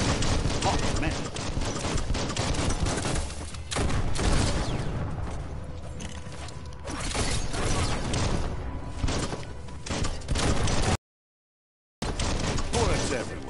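Gunfire in Biomutant, with bursts of shots and impacts like bullets flying, heavy and choppy throughout, a voice speaking between volleys, and a brief silent gap near the end.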